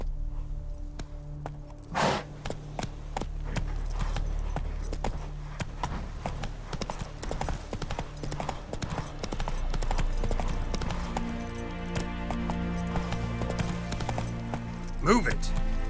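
Horse hooves clip-clop at a steady walking rhythm on a road in Novigrad in The Witcher 3, with harness jingling and ambient game sounds around them.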